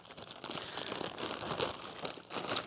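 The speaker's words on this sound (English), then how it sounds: "I'm wrestling a plastic bag." A plastic bag is crinkled and crumpled in irregular bursts of crackling, close and fairly loud, in a garage where work is being done on a Camaro engine.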